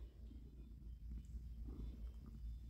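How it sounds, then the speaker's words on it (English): A cat purrs close by in a steady, low, continuous rumble that runs unbroken for a few seconds, with no voices over it. "I just wanted everyone to hear you purr."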